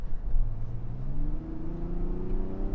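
A 2025 Mazda CX-70 engine accelerates gently on slippery snow, its hum rising steadily in pitch from inside the car, with no one talking.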